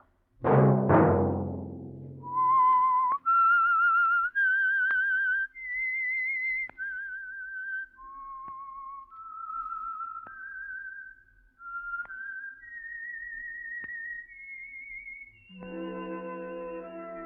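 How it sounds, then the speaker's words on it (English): A lone whistler plays a slow, eerie theme melody of sustained, sliding notes, clear and close, ending as an orchestral chord comes in, from a 1947 radio drama. "Let that whistle be your signal"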